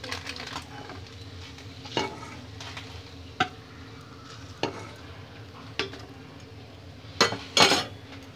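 A ladle scrapes and clinks against a nonstick pan as fried eggs are lifted out, several sharp metallic knocks spaced a second or so apart over a soft, steady sizzle.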